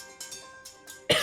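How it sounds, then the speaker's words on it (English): A single person coughs up close, a few short throaty bursts ending in one sharp, louder cough. "Sorry, excuse me again for the cough."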